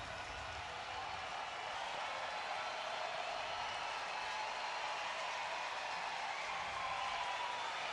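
Steady broadband roar of a large baseball crowd at Comerica Park in Detroit during a Tigers–Angels game, a constant wash of cheering and noise with bases loaded, sustained without pause.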